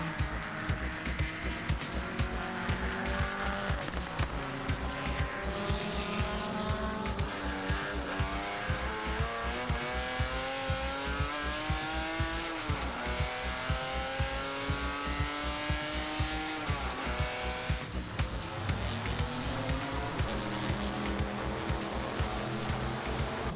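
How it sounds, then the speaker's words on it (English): A GT race car laps the Magny-Cours circuit in 2008 during a check for a slight suspected misfire. Its engine revs rise and fall repeatedly through gear changes and corners, loud and continuous, with no speech. "I've just sent Billy out for a couple of laps just to see what he thinks about it"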